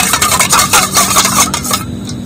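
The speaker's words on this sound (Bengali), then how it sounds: "আর ভিনেগার আর লেবুর রসটা ভালো করে ফাটিয়ে নিচ্ছি।" A vinegar and lemon juice mixture is stirred briskly, giving quick, close scraping and light clinking strokes in a busy, uneven rhythm for a couple of seconds with no speech.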